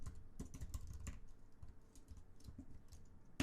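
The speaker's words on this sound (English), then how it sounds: "I'm going to type in tempo." Typing on a computer keyboard while coding HTML, heard as close, quiet, irregular bursts of key clicks with short pauses between them and no talking.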